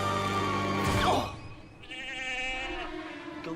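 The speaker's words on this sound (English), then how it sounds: "Goats are kind of scary too." Goats bleat loudly and close, a wavering drawn-out cry followed by a second quavering bleat, with a rushing noise between the calls.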